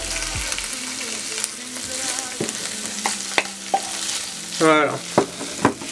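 Lardons and onions sizzle steadily in a pan with a soft frying hiss, broken by a few light clinks and scrapes of stirring and a brief spoken word.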